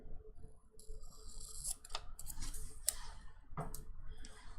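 Scissors snip through planner sticker sheets, a handful of sharp, quiet cuts spaced irregularly over soft handling noise.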